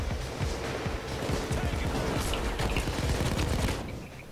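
Rapid bursts of gunfire in the video game Payday 2 crackle and pop in dense volleys, a busy barrage of shots layered with faint background noise.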